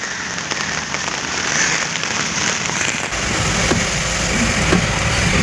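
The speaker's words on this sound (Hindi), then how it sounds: "देख पा रहे हैं कितना ज़्यादा बारिश हो रहा है।" Heavy monsoon rain pouring onto a flooded road at BKC in Mumbai, a loud dense hiss and patter that grows heavier partway through, with no talking.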